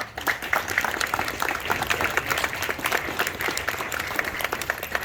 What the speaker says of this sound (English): Everybody give them a round of applause, please.